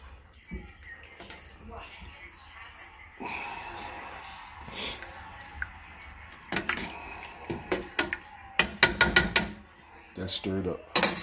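A spoon scrapes and clanks against a pot as diced tomatoes are stirred into catfish stew, with wet sloshing and a cluster of metallic knocks near the end, while a person talks throughout.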